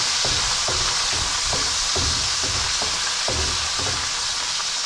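Onion sizzles and sautés in a hot pan, a loud steady frying hiss broken by regular low stirring scrapes, with no talking.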